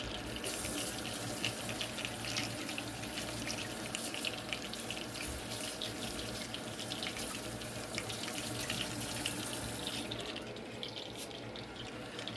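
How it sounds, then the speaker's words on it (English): A kitchen tap runs steadily as a spoon is rinsed beneath it, a close, continuous splashing gush of water into a sink that eases slightly near the end, with no talking. "I'm going to rinse off my spoon."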